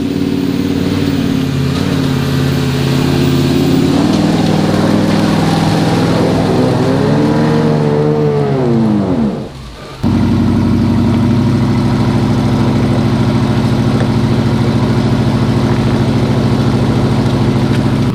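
A Jeep with a locker in its rear axle revs hard in two-wheel drive, wheels spinning, a loud sustained engine roar rising and falling in pitch with a brief drop before it surges again, steady and close.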